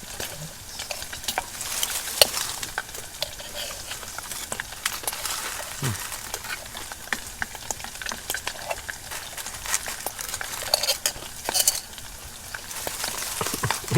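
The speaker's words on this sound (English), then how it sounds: "Got a little bit more bacon going." Bacon frying in a pan on a camping trip inside a hot tent, a steady close crackling sizzle with light scraping and stirring throughout, no talking.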